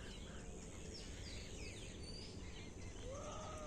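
Birds chirping and calling from a nesting tree near a lake, several thin bright tweets and a clear whistled call near the end over a steady outdoor background hum.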